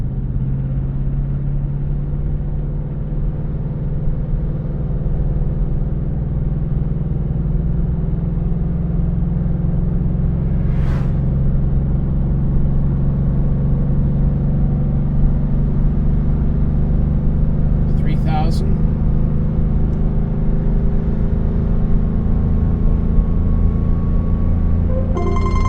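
Ford S650 Mustang engine pulling slowly in second gear from about 2,000 RPM, a steady low rumble that builds gradually for the whole stretch, with a couple of brief faint chirps partway through.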